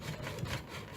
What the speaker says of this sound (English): I'm just going to use the hacksaw, which does make life easier.